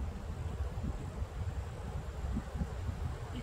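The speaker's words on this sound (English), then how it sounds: "I apologize if you're getting a bunch of wind noise" Wind gusting across a microphone outdoors at Bayard Conservation Area, a steady low rumbling buffet that swells and dips continuously throughout, with no voices.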